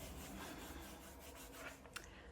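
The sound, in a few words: lightly sanding a wooden journal cover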